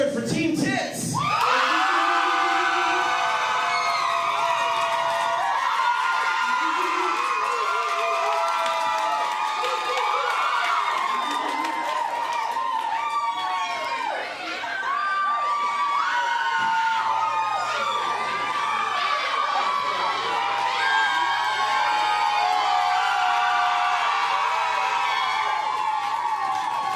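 Loud, sustained crowd cheering and whooping at a live burlesque revue in St. Louis as the audience votes for a team, a dense roar of voices lasting throughout.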